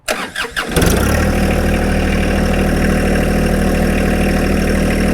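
A 2022 John Deere 1025R compact tractor engine cranks briefly with a few stuttering turns, then catches and settles into a loud, steady, low idle that continues to the end.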